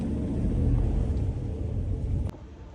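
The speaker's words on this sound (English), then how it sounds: "I'm on my way home from work and I am stuck in traffic" Steady low road rumble fills the cabin of a car crawling through commuter traffic, constant and close, with a brief click near the end and no talking.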